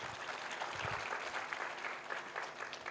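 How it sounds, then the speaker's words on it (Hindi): An audience at a literary festival talk applauds steadily, the dense clapping sounding soft and distant and filling the whole stretch. "एक बार अपने लिए एक बार तालियां बजाइए।"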